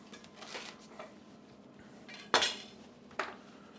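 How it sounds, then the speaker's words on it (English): A knife chops the ends off vegetables on a cutting board, giving two sharp, close knocks against a faint background of soft handling noises. "I cut off the ends."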